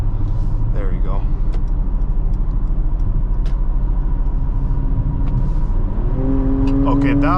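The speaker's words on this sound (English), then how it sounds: "that was a good downshift, finally. So it does have some good power." A 2023 Mercedes-Benz GLC43 AMG engine drones steadily inside the cabin, then rises sharply in pitch near the end as it downshifts and accelerates hard. Faint speech-like sounds sit under the engine.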